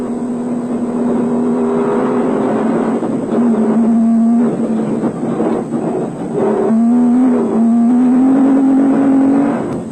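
Off-road race cars at the 2003 Carnival City Off Road Race in South Africa, engines droning loudly with rising and falling revs as the vehicles pass close by.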